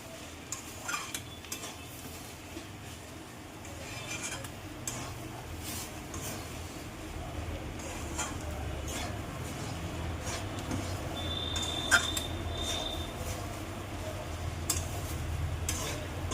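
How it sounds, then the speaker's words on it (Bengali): Semolina and vegetables are stir-fried in a pan, with continuous scraping, rustling and light ticking of a utensil against metal, close and steady with a low rumbling hiss underneath. "সুজিটাকে হালকা করে ভেজে নিতে হয় সবজির সাথে।"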